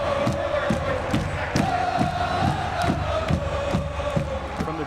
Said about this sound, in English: the roars from the student section overshadowed the action on the field